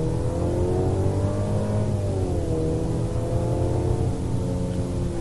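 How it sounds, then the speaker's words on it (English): A 2023 Mercedes GLC 300 with a 2-liter turbo engine under hard acceleration, a steady loud engine drone whose pitch climbs and dips with gear changes, heard from inside the vehicle with no talk. "we will go ahead and start with a hard acceleration to see what this 2-liter turbo can do"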